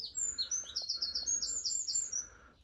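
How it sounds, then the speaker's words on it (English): Birds sing in a rewilded, unfertilised meadow left to grow wild, with repeated high, clear chirping phrases close by over a faint outdoor background. "But you can hear the bird song."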